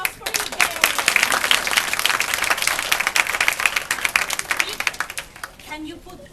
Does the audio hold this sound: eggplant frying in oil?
no